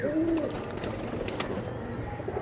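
A Madras pigeon, an adult male, coos in low, soft repeated notes close by, with faint rustling around it.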